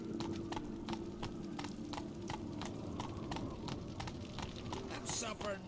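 Roach, a horse in The Witcher 3, gallops with a steady, quick clip-clop of hooves close by, a rhythmic drumming beat that runs throughout, with a brief sweeping sound near the end.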